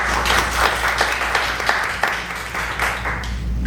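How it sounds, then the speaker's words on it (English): Audience applause for a forum moderator at a city commission candidate forum in Harlingen, steady dense clapping filling the whole stretch at moderate loudness with no one speaking. "Let's give a round of applause for Veronica."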